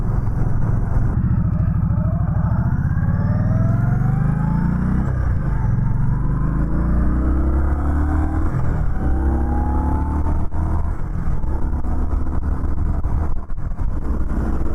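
A 2020 Indian Scout Bobber Sixty five-speed motorcycle on the road, its engine droning loud and close with rising revs as it accelerates, then dips and climbs again through gear shifts, wind noise underneath.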